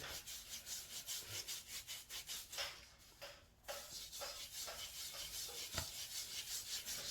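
Homemade coconut oil and sugar body scrub rubbed over skin, a steady run of quick, close, rhythmic scrubbing strokes with a brief pause partway through.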